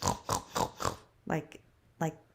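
A human voice imitates a pig grunting: four quick, rhythmic snorting grunts, then two more spaced-out grunts, close and moderately loud.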